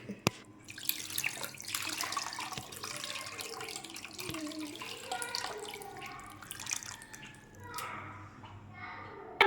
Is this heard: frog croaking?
no